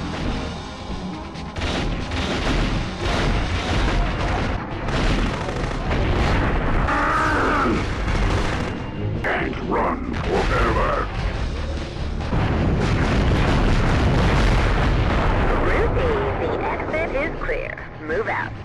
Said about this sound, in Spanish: Todo está explotando todo el tiempo.